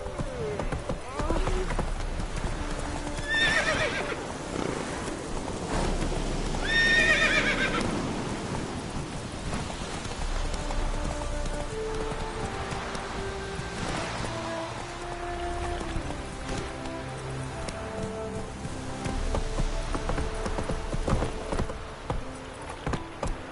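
Roach, a horse in The Witcher 3 video game, gallops with steady clip-clop hoofbeats and gives a couple of sharp neighs, set over rain, rumbling thunder and music, with a voice calling out now and then.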